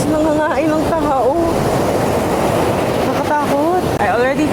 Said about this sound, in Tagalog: Oh my God, ang laki ng alon. Ang laki ng alon, guys.